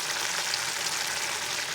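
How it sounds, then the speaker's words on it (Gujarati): Okra dropped into hot oil for a Gujarati-style tempering in an iron pan gives off a steady, close, bright sizzle and hiss that holds evenly throughout with no voices. "હમણાં ભીંડો વઘાર નાખું."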